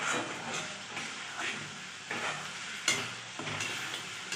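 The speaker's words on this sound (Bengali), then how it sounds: "দিয়ে নাড়াচাড়া করে এবার এটাকে ভাজা ভাজা করব।" Ghatkul leaf paste with garlic paste sizzles in hot oil in a pan while a spoon scrapes and stirs it in steady repeated strokes, close and clear with no talking.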